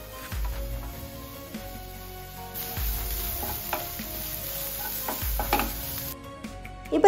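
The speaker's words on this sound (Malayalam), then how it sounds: "ഇപ്പോൾ ഇതാ ഉള്ളിയൊക്കെ വഴന്ന് ചെറുതായിട്ടൊരു കളറ് മാറി തുടങ്ങിയിട്ടുണ്ട്." Onions with green chilli and curry leaves sauté in a pan, a steady close sizzle broken by repeated scraping stirs and a few low knocks of the spoon against the pan, with no voices.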